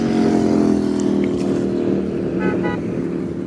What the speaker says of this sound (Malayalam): ബൈക്ക് പോകുന്നത്.